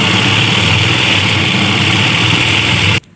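Electric sewing machine motor running with a steady, loud, close whir for about three seconds before cutting off abruptly.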